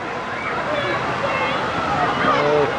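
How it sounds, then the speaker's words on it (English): Waves in an amusement park wave pool, a continuous sloshing, rushing wash of water heard at moderate distance with faint crowd noise mixed in. "That's the wave pool. Wow, this thing's really throwing the waves out."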